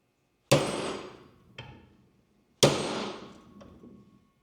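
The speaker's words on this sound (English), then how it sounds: "I still think I'm gonna take this and in the vise, hit it until it gets a little tweakage" Two hammer strikes ring out on a bent John Deere F525 mower part clamped in a vise, each a sharp metallic bang followed by a quick lighter rebound tap, close and loud with no talking.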